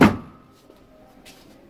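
A Conforama cabinet door swings shut with a single close, near knock at the start, then a faint creak and quiet rattle as the door settles, with no talking.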